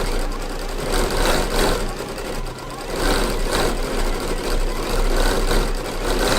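A sewing machine fitted with a stitch regulator runs steadily while fabric is guided by hand for free-motion stitching, giving a continuous close mechanical whir that rises and falls slightly in speed.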